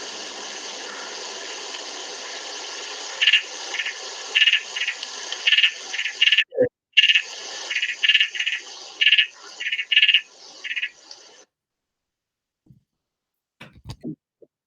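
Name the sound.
Batrachyla leptopus frog calling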